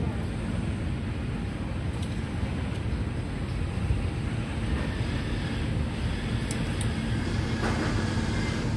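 A Kamandaka passenger train hauled by a vintage locomotive rumbles past, giving a steady, loud rolling noise of wheels on rails with faint clanks and squeals over it.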